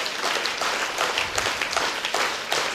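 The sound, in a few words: audience clapping loudly at a conference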